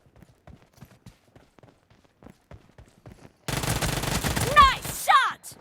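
Automatic shotgun firing in PUBG Mobile on the Livik map, a rapid dense burst of loud close shots after a stretch of soft footsteps, with short ringing tonal chirps layered over the end of the volley.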